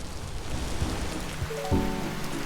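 Steady heavy rain pours in a video game, a dense continuous hiss with occasional soft thumps, joined near the end by a few sustained tonal game sounds.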